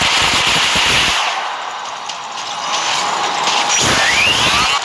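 Mech weapons fire in the robot combat game Mech Arena, with rockets locking on; a loud, dense burst of rapid explosive shots and crackling impacts runs throughout, nearly unbroken and close.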